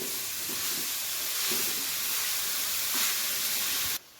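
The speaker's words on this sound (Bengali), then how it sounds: "গাজরটাকে ঘিয়ের মধ্যে হালকা করে একটু ভালো করে ভেজে নেব প্রথমে" Carrots frying in ghee in a pan, giving a steady close hiss and sizzle throughout that cuts off abruptly near the end.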